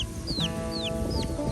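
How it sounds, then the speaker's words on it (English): A hen clucks near a small chick outdoors in Pahoa on Hawaii's Big Island, soft repeated clucks mixed with high thin chirps and a faint steady background hum. "There's a chicken here, and I'm hoping it would adopt this little chick."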